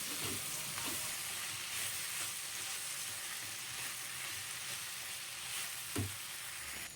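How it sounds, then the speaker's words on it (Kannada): Fresh coriander leaves sizzle in a pan with ground masala while cooking a dry fish curry, a steady close hiss with occasional stirring scrapes and no voices. "ಇವಾಗ ಒಂದು ಸ್ವಲ್ಪ ಕೊತ್ತಂಬರಿ ಸೊಪ್ಪು ಹಾಕಿಬಿಟ್ಟು ಅದೇ ಹಿಟ್ಟಿಗೆ ಸ್ವಲ್ಪ ಫ್ರೈ ಮಾಡ್ಕೊಳ್ಳೋಣ"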